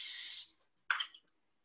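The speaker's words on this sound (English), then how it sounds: "So let me spray it with a little cooking spray." A short burst of cooking spray hisses into an 8x8 baking pan while cabbage rolls are being prepared, followed by a brief second spurt and then silence.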